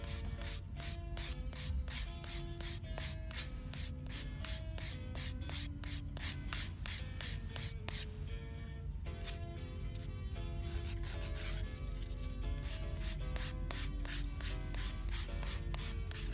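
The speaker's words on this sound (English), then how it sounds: "So I'm just very gently with my 180 side of the file, filing that down, and then buffing it." A 180 grit nail file working over fingernails in quick, rhythmic rasping strokes, then buffing, close and soft, with light music playing underneath and a brief pause midway.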